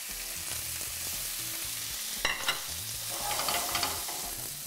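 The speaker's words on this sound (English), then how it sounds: "I'm going to cook them in a pan, probably 2 minutes each side" Food seasoned with salt and pepper sears in a pan over high heat, giving a steady close sizzle with a few sharp scrapes and clatters as it is moved.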